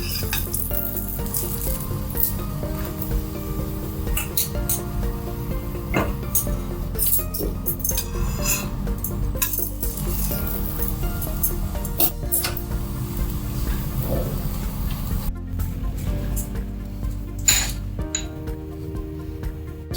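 A stuffed ragi paratha fries in homemade ghee on a pan, a steady sizzle running throughout, with scattered clinks and scrapes of utensils against the metal pan.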